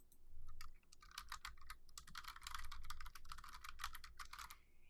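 Someone types quickly on a computer keyboard, with a close, continuous clatter of key presses in dense bursts and brief pauses, with no talking.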